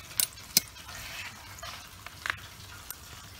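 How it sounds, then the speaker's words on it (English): Hot oil dripping off a freshly deep-fried turkey set down on cardboard, a faint steady sizzle with a few sharp drip ticks and crackles, close and otherwise quiet. "Again, let the oil drip off."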